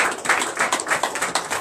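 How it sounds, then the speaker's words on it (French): A church congregation claps in a quick, fairly even rhythm, the sharp hand claps close and bright and filling the short moment without talk. "Donnez l'acclamation à l'Éternel."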